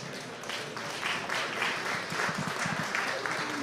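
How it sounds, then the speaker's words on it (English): An audience at a folk music awards concert applauds in a steady, even wash of clapping that lasts the whole stretch. "So please give them an applause."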